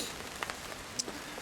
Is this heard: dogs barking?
no